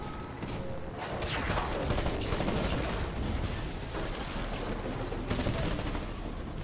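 Dense, sustained gunfire and explosions in the video game Titanfall during a multiplayer battle, loud and continuous throughout.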